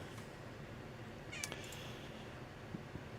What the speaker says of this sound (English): Sorry, I'm getting meowed at.